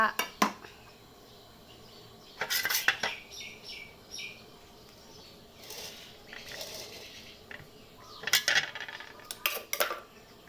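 Metal clanks and scrapes of a wok being set down and shifted on a stove, in a few short bursts against a quiet kitchen background.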